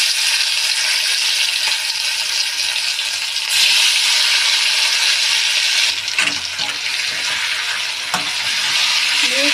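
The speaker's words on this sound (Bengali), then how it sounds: "এবার এর মধ্যে যে চিকেনটা আমি ম্যারিনেট করে রেখেছিলাম, এইটা আস্তে আস্তে তেলে ছেড়ে দিচ্ছি।" Marinated chicken pieces frying in hot oil, a steady loud sizzle throughout with a few stirring clatters and no talk.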